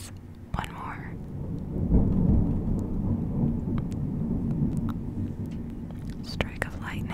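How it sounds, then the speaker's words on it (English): Thunder rolls through a steady thunderstorm with rain, a low rumbling swell beneath soft whispering and light tapping sounds. "Strike of lightning."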